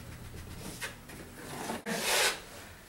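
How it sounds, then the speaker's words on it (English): A putty knife scrapes and pushes drywall compound through fiberglass tape into a hole where an interior door was removed, giving soft rubbing strokes and a louder scraping swipe near the end, close by and unaccompanied by speech. "Wiggle the knife back and forth and jam that stuff through the fiberglass tape into the hole."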